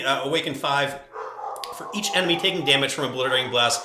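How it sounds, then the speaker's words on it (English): Dogs bark in the background behind continuous speech, with short yips and barks mixed under the talking voice throughout. "I apologize for my dogs barking in the background"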